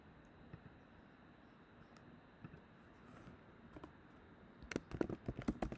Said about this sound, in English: let me type a message